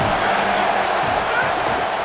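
A stadium crowd in the College Football 27 video game sends up a dense, steady roar during a third-down red-zone play, loud and continuous with no clear break.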